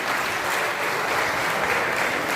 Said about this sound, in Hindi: हम आप सबसे सीतापुर वालों से आग्रह करते हैं कि एक बार जोरदार तालियां हमारे मंच के लिए हो जाए।